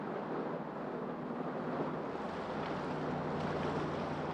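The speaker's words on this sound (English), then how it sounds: "stop your engine. We're coming aboard." A boat engine drones steadily on open water, a constant low hum under broadband wind and wave noise, with no talking.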